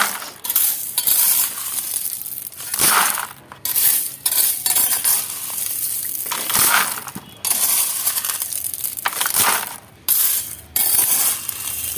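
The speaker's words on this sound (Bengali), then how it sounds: "এর মধ্যে আমি এই পাথরের কুচিগুলো সব দিয়ে দেবো" Small stone chips poured and scraped into a planting container for a tree, a steady gritty rattle and clatter with pauses between pours, close by with no talk.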